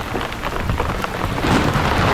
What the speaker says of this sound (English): This could very well be the start of that thunderstorm. Huge raindrops.